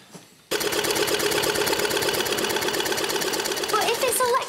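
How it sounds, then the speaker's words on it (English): An early electric sewing machine in an Edwardian English country house setting starts abruptly and runs loud and steady with a rapid mechanical chatter, close by, as voices speak over it near the end. "But if it's electric, aren't you worried it's going to run away with itself and sew your fingers to the table?"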